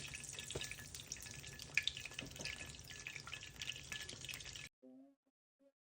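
Bay leaves frying in hot mustard oil make a soft, continuous crackling hiss for several seconds, then it cuts off abruptly into near silence with a few faint clinks.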